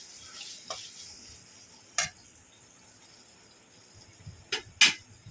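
Chicken chow mein ingredients are tossed and stirred in a pan, with scattered scrapes and clinks, sharper utensil knocks near the end, and a faint low sizzle underneath.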